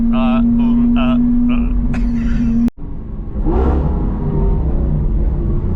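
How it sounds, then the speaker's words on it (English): A car revs for a low-speed launch, with an engine roar swelling after a short cut and people talking over it. "I'll do a launch too"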